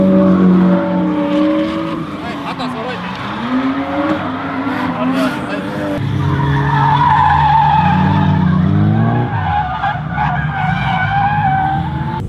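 A cheap kei car drifting on hard PVC pipe rings fitted over its tyres, giving a loud, continuous squealing and scraping slide with a wavering engine tone that rises and falls across several passes.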